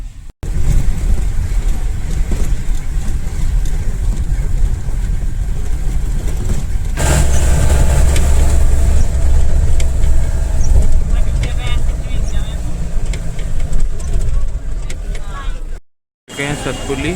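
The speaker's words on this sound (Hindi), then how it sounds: "कोरजोड़ की गाड़ी में बैठ गए और अब हम पहले कोरजोड़ जाएंगे" Steady, loud engine and road rumble fills the inside of a car riding toward Korjod in rainy, foggy Uttarakhand, with one brief dropout near the end.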